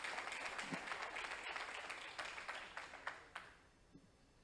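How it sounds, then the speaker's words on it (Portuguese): A church congregation claps during a sermon, faint, distant applause that gradually thins into a few scattered claps. "Quem vai aplaudir Ele aqui?"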